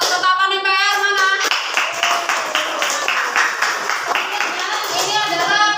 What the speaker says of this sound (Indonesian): tepuk tangan dulu untuk kelompok ketetapan MPR mana?